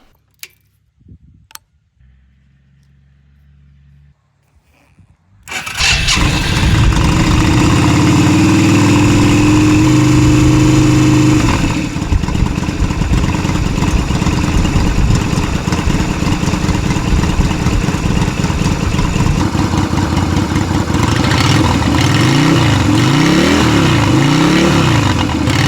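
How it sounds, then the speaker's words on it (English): A Yamaha XV250 Virago motorcycle is cold started after a few quiet clicks, then the engine catches and holds a loud, steady idle with some brief revving, and nobody speaks. "In this video we're going to do a cold start of our Yamaha Virago XV250"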